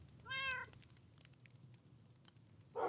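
A single clear cat meow rises near the start, followed by quiet rustling and a short second call at the end, close and fairly soft.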